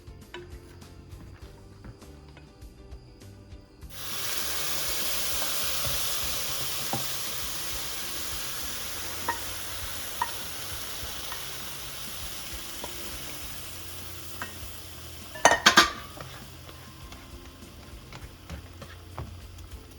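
Chicken and bow tie pasta sizzle and simmer in a pan. After a few quiet seconds, a steady hiss sets in and continues, with faint pops and a brief metallic clatter of utensils near the end.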